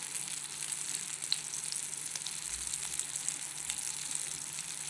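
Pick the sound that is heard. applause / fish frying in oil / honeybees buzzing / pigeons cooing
fish frying in oil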